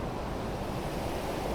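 The Manalsu river rushes steadily in Old Manali while cold wind buffets the microphone, forming a continuous broad wash of water and wind noise with no talk.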